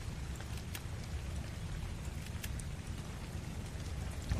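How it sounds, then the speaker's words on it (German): Rain pours in the video game ARK: Survival Evolved, a dense continuous patter with occasional sharper drops, heard alone without voices. "Oh, jetzt regnet."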